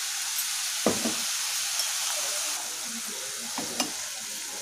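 Ghee is stirred into rice frying in a pan for restaurant-style fried rice: an even sizzling hiss with a few distinct spoon scrapes and knocks against the pan.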